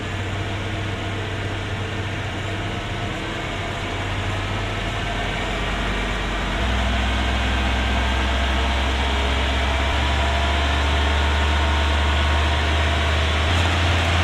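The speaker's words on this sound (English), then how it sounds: "If you can't crank the throttle up like I'm doing, hold it with your hand and listen to it" An old Ford OBS pickup engine holds a steady raised idle near 2,000 RPM, a loud continuous drone and hum that deepens slightly partway through, with no talking.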